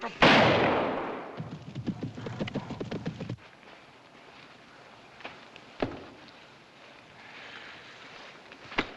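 A single loud hunting-rifle shot rings out at the start in a 1952 safari film, followed by the rhythmic clatter of hooves and sparse scattered sounds fading into quiet.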